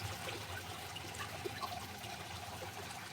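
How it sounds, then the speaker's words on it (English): Water flows outdoors in a soft, continuous trickle, faint and steady, with scattered small splashes and gurgles. "this water just sounds so good"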